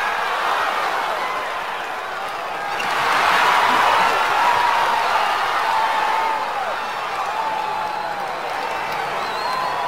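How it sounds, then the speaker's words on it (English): An opening-day race crowd in a Cars video game roars and cheers steadily throughout, swelling louder partway through and then settling back to a constant wash of distant cheering with faint whistle-like tones. "this is a great opening day crowd"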